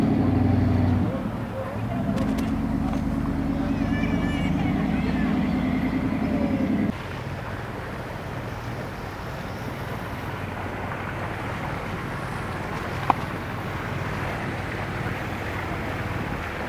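A boat's motor drones as it heads back toward the boat ramp, a steady low engine hum with wind and water noise, easing off partway through while a faint voice speaks early on.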